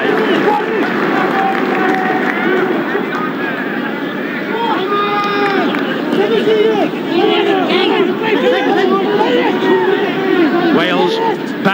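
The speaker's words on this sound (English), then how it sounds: "this crowd really does come alive" Rugby stadium crowd at a 1991 Wales versus Papua New Guinea match, a continuous loud roar of cheering spectators with a commentator talking over it throughout.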